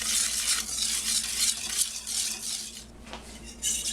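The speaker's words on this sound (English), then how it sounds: "We're going to whisk together our flour, sugar, and our salt." Flour, sugar and salt being whisked together in a bowl for a fruit tart crust, giving a steady, close scratchy rustle of the whisk that runs continuously with brief pauses.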